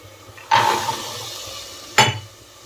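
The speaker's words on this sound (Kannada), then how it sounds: "ಈಗ ನಾನು ಹಸಿ ಕಾಳು ಹಾಕ್ತಾ ಇದ್ದೀನಿ." Raw beans tip into a pan of fried tomato and onion with a loud, sudden sizzling rush that fades. A second sharp burst of sizzle follows about a second and a half later.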